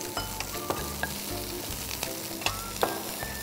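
Curry leaves and finely sliced onions fry for a Malabar prawn curry, a loud close sizzle broken by rhythmic scraping strokes of a spoon in the pan.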